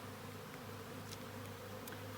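Honey bees buzz steadily on wax comb built over plastic foundation inside a beehive, a soft continuous hum throughout with a few faint higher flickers.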